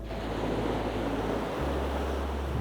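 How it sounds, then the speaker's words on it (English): A strong westerly gale roars steadily across the microphone by the sea, with a deep continuous rumble and surf-like wash throughout. "It's blowing a big gale from the west."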